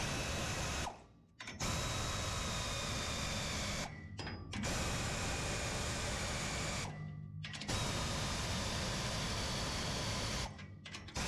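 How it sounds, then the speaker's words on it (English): A pneumatic air ratchet tightens the leaf spring bolts on a utility trailer. It runs in loud sustained whirring bursts that stop briefly three times, close up, with no talking. "We're going to tighten her up with the air ratchet here"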